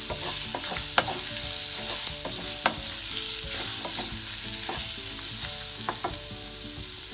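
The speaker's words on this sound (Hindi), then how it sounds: "अच्छे से मिक्स करेंगे सबको" Raw, slightly ripe mango pieces being stirred and mixed in a hot pan for a mango murabba, a soft sizzle under frequent close scraping strokes and a couple of sharper knocks, with no voices.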